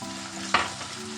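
Minced meat with grated carrot fries in a pan for a savory leek pastry filling, giving a soft continuous sizzle and one brief, sharp stirring scrape partway through. No one speaks.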